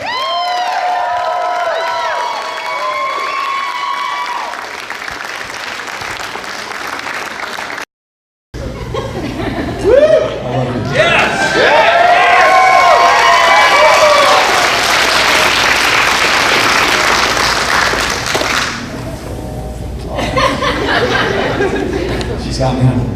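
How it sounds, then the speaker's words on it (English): Wedding reception guests applaud and cheer the wedding party, loud sustained clapping with whoops, laughter and crowd chatter, briefly cutting out before swelling again and tapering off. "one more time, a round of applause for our lovely wedding party."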